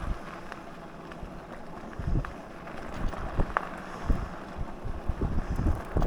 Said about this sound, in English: here we are riding along on our Himiway D5